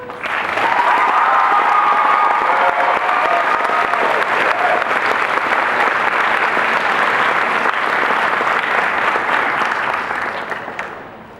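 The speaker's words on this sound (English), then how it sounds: "we need to give them a round of applause" A crowd at a cosplay awards event in Tulsa applauds the best prop winners, a dense, loud, steady wash of clapping that holds for about ten seconds before tapering off at the end.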